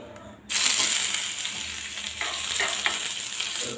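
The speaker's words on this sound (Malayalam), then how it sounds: "ചതച്ച് വെച്ച വെളുത്തുള്ളി ചെറിയുള്ളി രണ്ടും കൂടി നന്നായിട്ട് ചതച്ച് വെച്ചിട്ടുണ്ട് ഇത് ഇതൊന്ന് നമ്മുടെ എണ്ണയിലോട്ട് ഇടാം എണ്ണ ചൂടായി വന്നിട്ടുണ്ട്" Crushed garlic and shallots dropped into hot oil, setting off a sudden loud sizzle that holds as a steady, close crackling hiss, with a few faint clinks and stirs.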